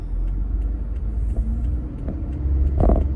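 A parked car's engine rumbles close by, a continuous low throb with a few faint clicks and a slight swell of louder noise near the end.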